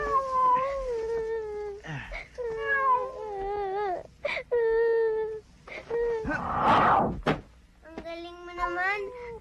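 A cat stranded and unable to climb down cries in a series of plaintive, wavering meows and wails spread over several seconds, close by, with voices talking in between.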